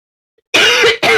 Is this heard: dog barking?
no